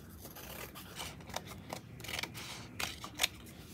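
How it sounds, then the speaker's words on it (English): Scissors snip through crafting material in a quiet room, a few soft crisp cuts and rubbing sounds spread irregularly, with one sharper snip near the end and no talking. "I'm going to cut this off."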